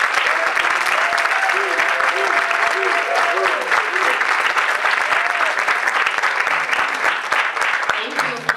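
An audience at a tribute event for General Gordon Baker Jr. applauds steadily as Crystal is welcomed to the stage, with dense sustained clapping from a large crowd in a hall and faint voices mixed in.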